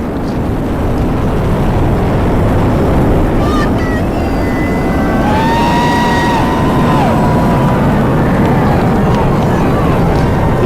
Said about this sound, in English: All 27 engines powerfully lifting GOES-U on its trajectory and ascent into space